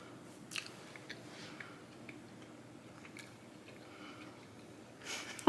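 Freshly baked homemade dessert squares bitten and chewed close up, soft crunchy chews and small clicks over quiet room noise, ending with a louder bite-like burst.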